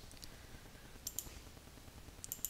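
Quiet mouse clicks on a computer during a software install on Windows 7, a couple of paired clicks near the middle and a few more at the end over a low background hum.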